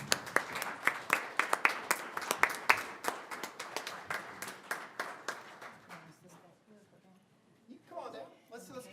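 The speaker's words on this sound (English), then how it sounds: "Can we give them a round of applause?" Audience at a Radford City Council session applauds library staff, a burst of steady clapping that thins out and fades over several seconds, with a few voices speaking as it dies away.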